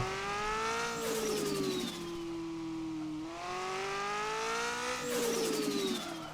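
Car engine in the video game Car For Sale Simulator 2023, revving up and easing off in repeated rising and falling sweeps, loud and close with no talk.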